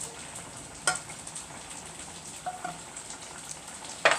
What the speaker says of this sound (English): I'm gonna just get quick deep fry for about 2 to 4 minutes in the very hot oil.